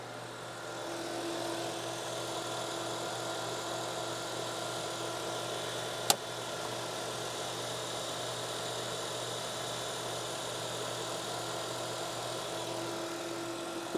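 Robinair A/C recharge machine recovering refrigerant from the service lines, a steady, faint mechanical hum with a constant drone running throughout and one brief sharp click near the middle.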